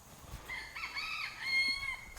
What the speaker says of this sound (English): Those roosters, I swear they gotta go